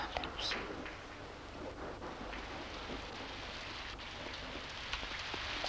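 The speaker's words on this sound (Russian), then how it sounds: "Ой, сколько дождя." Heavy, steady downpour in a 1988 Soviet animated cartoon, a dense continuous hiss of rain with low rumbling underneath, loud and unbroken throughout.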